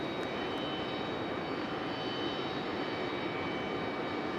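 A jet aircraft, a NetJets business jet or a Delta airliner, at Raleigh-Durham International Airport gives off a steady, even engine roar that fills the short stretch without letup, with no voices.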